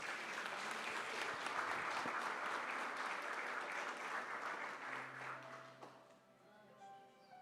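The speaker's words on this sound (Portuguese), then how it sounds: "Pode aplaudir a Jesus." A church congregation claps together in sustained applause, a dense patter that gradually thins and fades toward the end as a soft tone lingers underneath.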